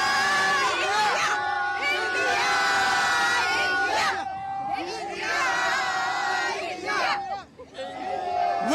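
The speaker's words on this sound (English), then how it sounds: "Be world champion, cheer for Team India." Fans in Barbados celebrate India's T20 World Cup win over South Africa with loud crowd chanting and cheering, rhythmic bursts of massed voices rising and falling in waves over several seconds.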